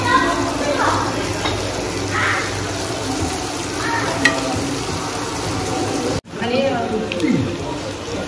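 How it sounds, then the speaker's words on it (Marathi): Capsicum shallow frying in a pan, a continuous close sizzle with occasional stirring, heard beneath a person talking. "हे डीप फ्राय नाही करायचं, नुसतं शॅलो फ्राय करायचं."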